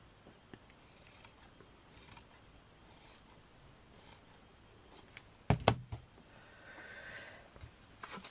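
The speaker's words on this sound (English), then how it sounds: "let me just cut this straight." Scissors snip through leftover fabric scraps while sewing a small pouch, a few quiet soft cuts spread out, then a brief louder snip-and-rustle burst near the end.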